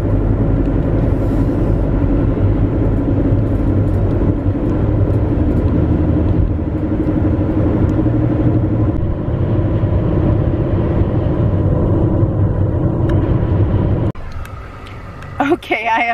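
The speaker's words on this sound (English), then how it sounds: "So let's go for a drive." Steady, loud low rumble of a car driving on the road, heard from inside the vehicle with constant engine and road noise that drops away near the end as the car slows.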